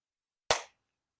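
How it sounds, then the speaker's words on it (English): A single sharp hand clap for syncing a camera in a workshop where a 4WD Daytona body and frame are being lined up, loud and close, alone in silence. "And clap again."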